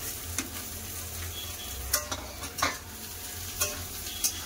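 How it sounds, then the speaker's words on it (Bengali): Sliced ridge gourd fries with potatoes and onion in a pan, a soft steady sizzle broken by several sharp clacks and scrapes from a spatula stirring the vegetables. "আবার ঝিঙ্গা আলু পেঁয়াজের সাথে ভালো করে ভেজে নেবো।"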